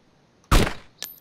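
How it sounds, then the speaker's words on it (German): A single loud gunshot from the DayZ Standalone video game cracks nearby, with a short decaying tail, followed by a couple of faint, small clicks. "Oh, Schüsse."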